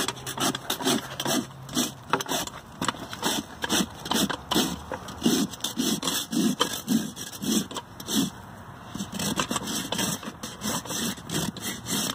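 A hoof rasp scrapes a horse's right hind hoof during a barefoot trim, leveling the bars in quick repeated back-and-forth strokes, close, rough and rhythmic, with no talking.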